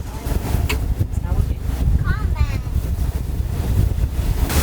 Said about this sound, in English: The wind's blowing 20 to 25 miles an hour.